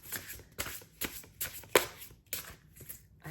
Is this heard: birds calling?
no